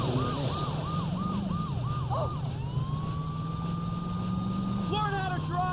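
Ambulance siren in a video game wails in a rapid up-and-down yelp that shifts into a long steady tone, heard over engine rumble and traffic noise with a voice speaking.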